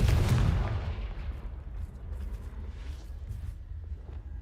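A Confringo spell explodes in the video game Hogwarts Legacy, one loud booming blast at the start followed by a long rumbling decay with light game noises behind it.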